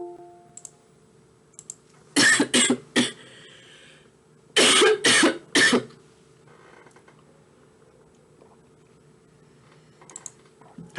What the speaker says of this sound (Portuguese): Agora a tosse veio que veio